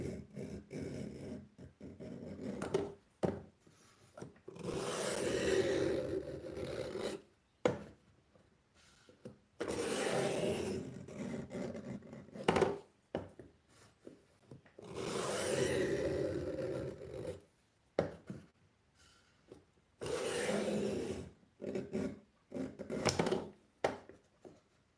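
A knife, its curved belly riding a rotating sharpener, gives repeated rasping strokes in bursts of a few seconds each, separated by short pauses and light clicks, close and moderately loud.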